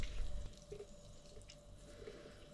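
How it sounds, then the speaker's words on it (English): Boiling water is poured into a homebrewing vessel for a beer made with liquid malt extract, a faint steady trickling and splashing that runs continuously for a couple of seconds. "just going to pour some boiling water in there"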